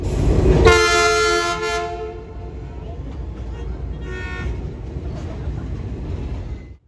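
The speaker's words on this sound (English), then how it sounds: "There was also a salute from a passing coal train to congratulate the EMUs on their long service." A passing coal train's horn blasts loudly for about a second over its low rumble, followed by a fainter second toot as the rumbling continues.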